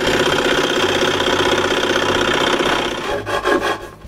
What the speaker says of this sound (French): J'enlève le bois entre les 2 trous à la scie à chantourner.